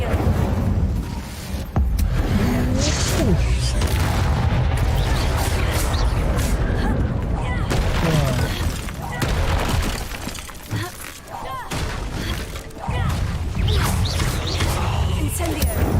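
Fire spell blasts from Hogwarts Legacy, a rapid run of loud bursts and crackling impacts layered with game effects and combat noise, with a few short gaps between volleys.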